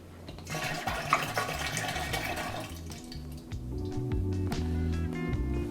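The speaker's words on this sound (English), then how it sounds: "now I can pour this in" Liquid pours into a vessel of home-brewed radler-style beer, starting as a bright splashing stream and settling into a lower, fuller gurgle as the level rises, close and fairly quiet.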